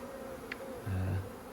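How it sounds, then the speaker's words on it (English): Honeybees buzz around an open polystyrene hive, a faint, continuous hum. One louder, lower buzz passes close by for a moment. "because there's the bees everywhere"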